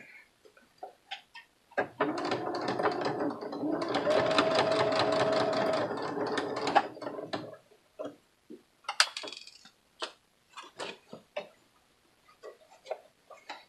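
A sewing machine stitches a cinch sack in one steady, close run of several seconds, framed by scattered clicks and handling noises before and after.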